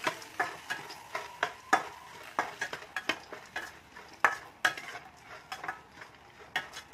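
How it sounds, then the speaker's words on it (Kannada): Cinnamon, cloves, poppy seeds, peanuts and tomato dry-roasting in a pan, stirred with a spoon that gives sharp, close scraping clicks in an uneven rhythm, faint sizzle beneath, no talking. "ಚಕ್ಕೆ ಲವಂಗ ಗಸಗಸೆ ಉರ್ಗಡ್ಲೆ ಟೊಮೆಟೊ ಎಲ್ಲ ಹಾಕಿ ಚೆನ್ನಾಗಿ ಮಿಕ್ಸ್ ಮಾಡ್ತಾ ಇದೀನಿ"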